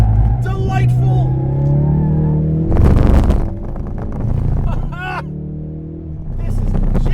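A Mountune Ford Focus RS hatchback drives hard on a smooth tarmac track, its engine droning at a steady pitch, surging briefly and then settling. Wind buffets the microphone, and an excited voice talks over the car.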